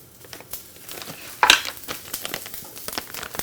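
Soft shell crab frying in a pan: soft crackling and light popping with one sharper burst of crinkly noise, close and fairly quiet, no voices.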